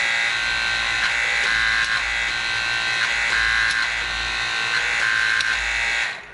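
An electric torque tool runs on crankshaft bolts during a Caterpillar 3406 crank install, giving a steady loud whine and buzz that pulses slightly before cutting off at the end.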